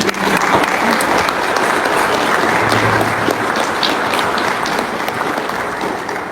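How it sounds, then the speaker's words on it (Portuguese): A church congregation applauds loudly and continuously, the dense clapping holding steady throughout with faint voices mixed underneath. "Vamos aplaudir Jesus."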